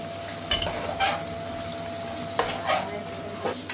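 Onion frying in oil together with cluster beans, a steady close sizzle broken by several sharp stirring scrapes of a spoon against the pan, no voices.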